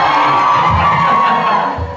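A crowd of fans cheering and shouting at a fan meeting for Kim Jonghyeon in Bangkok, a loud continuous roar of excited voices with whoops throughout.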